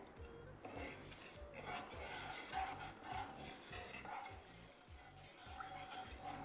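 Sugar is stirred to dissolve it in a pan or bowl, with a repeated soft scraping rhythm at a quiet level and no voices.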